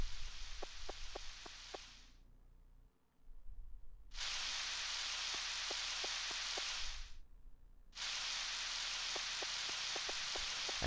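Steady hissing rain from Harvest Moon 64 on a rainy Sunday, loud broadband downpour broken by two short silent gaps, with faint soft ticks of drops under the wash and no talking.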